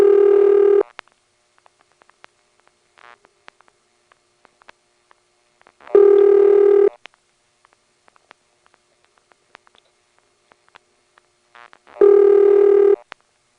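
Three long, steady electronic ringback bursts from a 1978 Siemens motor-switch telephone exchange in Ocala-Silver Springs, Florida, about six seconds apart, with faint low tone blips and clicks in the quiet gaps between.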